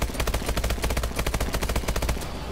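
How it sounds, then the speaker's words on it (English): Rapid, steady bursts of automatic gunfire come from a sentry gun in the ExoZombies mode of a shooter game, continuous and loud for the full stretch. "That's a sentry gun."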